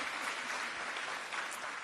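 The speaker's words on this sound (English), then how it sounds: "let's give them a round of applause" A crowd at a political campaign rally in Wisconsin applauds steadily, a dense, even wash of clapping that continues throughout without a break.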